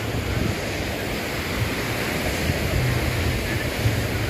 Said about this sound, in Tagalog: pag ganitong malakas ang alon